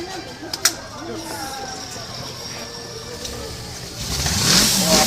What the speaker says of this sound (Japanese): それでは消音マフラーです。